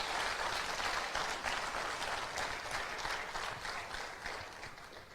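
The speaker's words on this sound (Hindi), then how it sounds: "एक बार जोरदार तालियां होनी चाहिए ब्रिट वर्ल्ड वाइड के लिए" An audience at an Amway meeting breaks into loud, sustained clapping. The applause stays dense and even for several seconds, then eases off slightly toward the end, with no voices over it.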